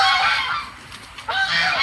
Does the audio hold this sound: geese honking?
yes